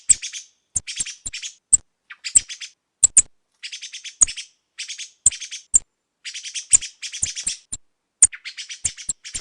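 Clear, close thrush song: crisp repeated phrases and piercing notes in rapid bursts with brief pauses, no other sounds.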